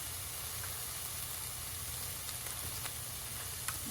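Chopped onion sautéing in a pan gives a soft, steady sizzle and hiss, faint and continuous with a few light crackles, and no talking.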